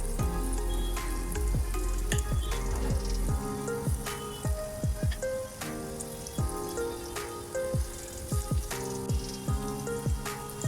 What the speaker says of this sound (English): Once the oil is hot, fry your vadas.